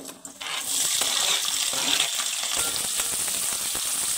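Onion slices, green chilies and whole spices such as cinnamon, cloves and cardamom hit hot oil for biryani, bursting into a loud, sustained sizzle after a brief clatter, with no talk.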